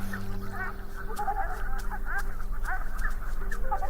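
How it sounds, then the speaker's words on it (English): Bar-headed geese on the Qinghai-Tibet Plateau give a series of nasal honks in irregular overlapping bursts, moderately close, over a steady low hum. "The bar-headed goose has a unique feature, allowing it to survive in the harsh environment."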